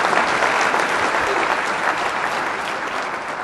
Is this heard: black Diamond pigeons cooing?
no